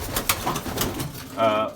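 Belgian racing pigeons coo softly in a loft while a person talks over them, with a low throaty coo standing out near the end.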